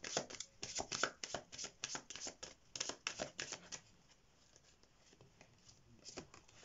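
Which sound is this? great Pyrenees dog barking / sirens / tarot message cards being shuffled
tarot message cards being shuffled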